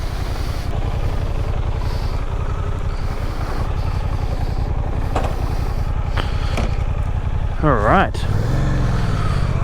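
A 2023 Suzuki GSX-8S motorcycle engine runs steadily throughout, its low rumble close by beneath a brief spoken word, with a sharp rising rev near the end.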